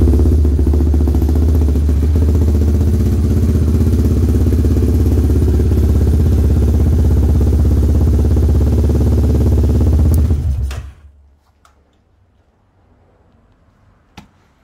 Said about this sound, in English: go back up and try to refire the bike